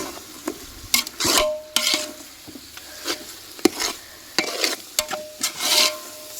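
Chicken biryani is stirred in a pot with a ladle, giving repeated scraping and rasping strokes with brief sizzles in an irregular rhythm, close and fairly loud, with no talking.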